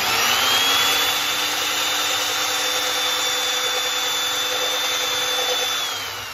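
Electric drill with a brad-point bit boring a hole into a tough maple electric guitar body, a loud steady high whine with grinding wood noise running continuously, easing off at the very end.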